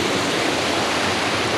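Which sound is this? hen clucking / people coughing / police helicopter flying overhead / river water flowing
river water flowing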